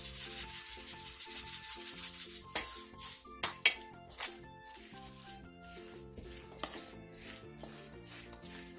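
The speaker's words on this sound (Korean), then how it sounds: "그 다음 부추와 양파, 통깨를 넣고 다시 한번 가볍게 섞어주세요." Chives, onion and sesame seeds being tossed by hand into a cucumber kimchi seasoning, soft rubbing and stirring sounds with a few sharper clatters over gentle background music, no talk.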